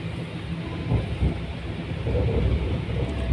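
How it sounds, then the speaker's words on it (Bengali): Inside a moving metro train at Education City, a steady loud rumble fills the carriage, with rolling low noise and faint rattles building slightly toward the end, and nobody speaks. "আর এই যে আমি মেট্রোতে উঠে গেছি, এখন মেট্রো দিয়ে যাইতেছি।"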